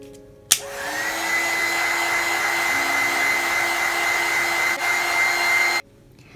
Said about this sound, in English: we will use the heat gun